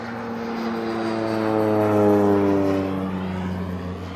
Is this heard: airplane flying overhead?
yes